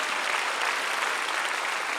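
A church congregation at a Sunday worship prayer gathering breaks into dense, continuous applause, a broad even wash of many hands clapping with no letup throughout.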